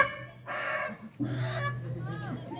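Loud, close honking calls from a fowl come in two bursts, with some faint background noise between them.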